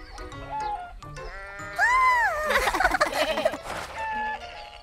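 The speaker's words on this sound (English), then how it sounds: "A goat?" A cartoon goat lets out a loud, wavering bleat in the middle of a children's animated show, with softer voices and lighter tones before it and a busier burst of sound right after.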